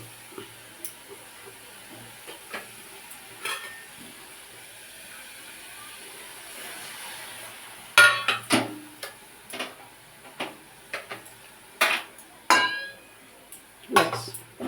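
Ground spice paste with a splash of water being stirred and sautéed in a pan for a pointed gourd curry: a quiet simmer at first, then sharp, close scraping clinks of a spoon against the pan coming in repeated bursts.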